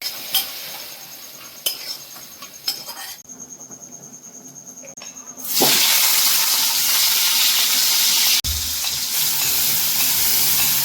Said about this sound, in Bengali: তারপর খুব ভালো করে দেখো এটা নাড়িয়ে নিচ্ছি, মশলাটা হালকা করে কষিয়ে নেব